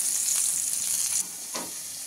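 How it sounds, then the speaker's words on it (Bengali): Potatoes frying in a pan of hot oil for a duck-egg curry, a loud steady sizzle that drops off abruptly midway, followed by a brief stir and a softer hiss. "আলুটা লাল লাল করে ভাজা হয়ে গেছে"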